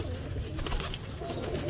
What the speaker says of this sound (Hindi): सारे नस्लों वाले कबूतर पड़े हुए हैं